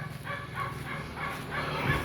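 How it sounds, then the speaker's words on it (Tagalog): Faint barking from neighbours' dogs somewhere off in a residential street, a few soft, distant woofs repeating over low outdoor ambience. "kahol ng mga aso sa mga kapitbahay"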